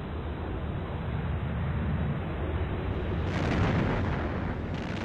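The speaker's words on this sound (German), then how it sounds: "Die Texas schießt 59 Granaten ab und zerstört ihr erstes Ziel" The battleship USS Texas fires its big guns in World of Warships, a heavy, sustained booming rumble of shellfire that rolls on without pause. It grows slightly brighter and more forceful toward the end.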